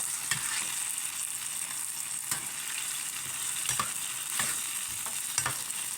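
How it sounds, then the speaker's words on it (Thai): Tofu and pork are stir-fried in a pan, with a steady hiss of sizzling and occasional light scraping taps from stirring, close by and fairly quiet. "เต้าหู้หมู ค่ผัดให้สุกๆนะคะ"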